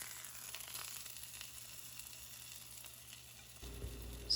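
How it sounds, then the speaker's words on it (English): Dumplings fry in a pan, first covered and then with the lid off to crisp until golden on the bottom, giving a steady, soft sizzle and crackle heard up close, with a brief clatter near the end. "You'll hear it sizzling."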